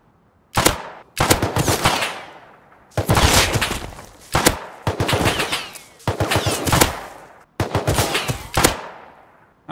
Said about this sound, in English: so that's who was shooting me.